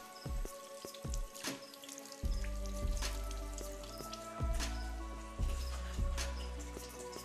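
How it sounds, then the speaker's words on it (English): Water splashes and drips from a tap as hands are washed, with scattered drops and a steady trickle running close by through several seconds. "Let me wash my hands."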